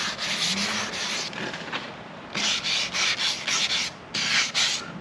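Hand sanding an outboard motor's surface before spray painting, brisk back-and-forth scratchy strokes in uneven bursts, close and clear with short pauses between passes.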